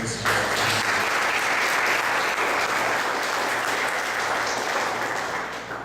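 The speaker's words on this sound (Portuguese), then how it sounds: "Vamos dar uma salva de palmas para esse dia." A church congregation applauds together during a worship service, a dense, steady wash of clapping that holds loud for nearly six seconds before beginning to thin at the end.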